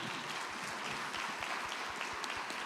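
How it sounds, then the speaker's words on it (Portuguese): A church congregation gives a round of applause for Jesus. The clapping is steady and fairly faint, sounds distant, and runs on without talk over it. "Vamos dar uma salva de palmas para Jesus, que Ele é bom?"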